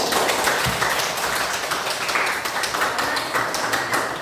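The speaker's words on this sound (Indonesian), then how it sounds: "Mari kita berikan dulu tepuk tangan." Classroom applause after a student discussion: a room of pupils clapping together in a dense, steady patter that fills the whole stretch, fairly close and even, with no talk over it.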